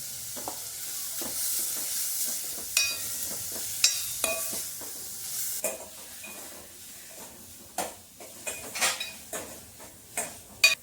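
Carrots frying in ghee in a pan, a soft steady sizzle broken by repeated sharp scrapes and clinks of a spoon stirring against the metal, close and with no talk.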